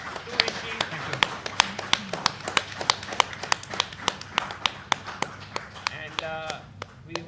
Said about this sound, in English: Guys, let's give a big round of applause to Vishy